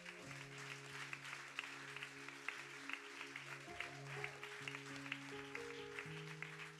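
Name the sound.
church congregation applauding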